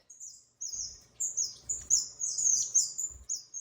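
Small aviary birds, including young ones learning from older teacher birds, chirp and tweet in a run of high, bright, closely spaced calls, near and clear, with a faint low rumble beneath and no talking.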